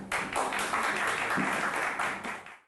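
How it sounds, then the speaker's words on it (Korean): Steady applause from an audience at a Korean lecture event, dense continuous clapping that holds at an even level and then fades out at the end. "큰 박수 부탁드립니다."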